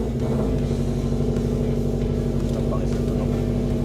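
A car engine fitted with a full aftermarket exhaust idles with a steady, deep low rumble close by, continuous and even throughout with no revving.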